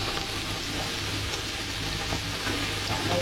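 Live prawns sizzle and crackle steadily in hot oil in a pan, a dense, even frying hiss that fills the whole stretch with no talk over it.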